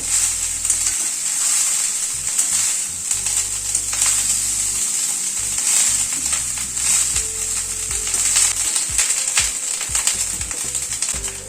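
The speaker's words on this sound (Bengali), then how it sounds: "হালকা করে ভাতটাকে ভেজে নেব" Rice for chhanar pulao, salted and lightly fried in a pan, gives off a steady, close sizzling hiss with irregular scraping and clinking as it is stirred throughout.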